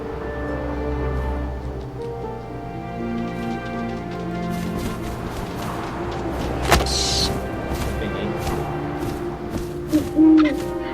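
Owl hooting in the video game What Remains of Edith Finch, set against layered ambient game sound with wind-like noise and soft tones; the hoots are mid-level and not sharply isolated.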